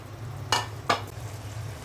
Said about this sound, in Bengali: বেগুনটা ভাজবো, তাই হলুদ দিয়ে দিলাম।